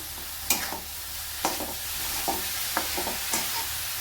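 Onion leaves (spring onion greens) are stirred and fried in a pan for a bhaji, with a steady sizzle under several sharp scrapes of a spatula at irregular intervals, close and fairly quiet, with no talking.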